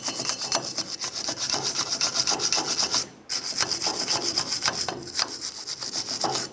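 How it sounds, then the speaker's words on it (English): Rapid, rhythmic scrubbing of a wire brush against the axle surface of a Ford E-350 Super Duty during a parking brake shoe replacement, close and continuous, pausing briefly in the middle before resuming at the same pace. "So I'm going to use a wire brush."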